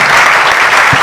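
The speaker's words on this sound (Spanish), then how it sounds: "un aplauso para nuestros testigos" Applause for the witnesses at a university forum marking 25 years of Fe y Alegría in Venezuela: loud, dense clapping from a crowd, steady across the whole short stretch.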